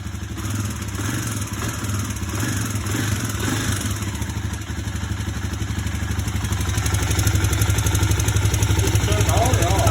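A 2009 Kawasaki KLX250S motorcycle engine runs close by with a steady, clattery idle that builds slightly louder toward the end. Faint background voices can be heard under the engine noise.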